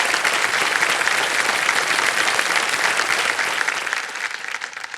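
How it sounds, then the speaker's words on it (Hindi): A television quiz show studio audience bursts into loud, sustained applause, dense clapping that holds steady before thinning out near the end. "तालियां बज जाए इनके लिए"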